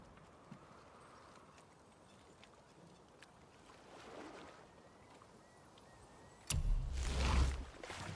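Oars dip and pull through water as a boat is rowed in God of War, faint rhythmic strokes and lapping under a quiet ambience, swelling into a louder splash and rush near the end.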